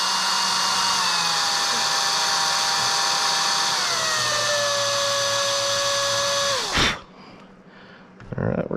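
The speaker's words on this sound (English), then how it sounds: "Don't worry, I'll be vacuuming." A vacuum cleaner runs in a car interior, a 2008 Volkswagen R32, holding a steady loud whine that slowly drops in pitch before it switches off abruptly and fades, leaving quieter rustling after.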